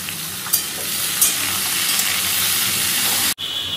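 Potato and papaya curry goes on to cook, giving a loud continuous sizzling hiss with a couple of brief clatters before it cuts off abruptly near the end.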